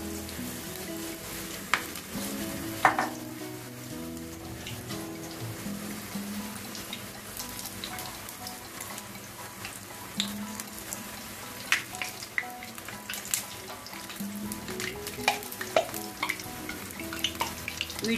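Spinach leaf pakoras fry in hot oil, making a continuous bubbling sizzle with frequent crackles and pops, moderately loud and steady throughout.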